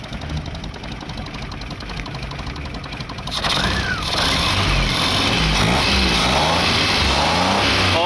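A Suzuki Khyber car engine converted to EFI starts: a steady hiss and whine first, then the engine catches after about three seconds and settles into a louder, rough, rumbling idle that stays close.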